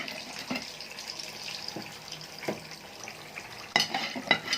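Liver sizzles as it fries in a pan, with steady crackling and a few sharp scrapes and clinks of stirring at irregular moments.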